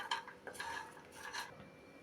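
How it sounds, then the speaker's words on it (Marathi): Grated coconut dry-roasts in a pan while a spoon scrapes and clinks against the metal. The strokes come in quick, soft bursts up close, with no voices. "आता सर्व खोबरं या ठिकाणी मी भाजून घेते"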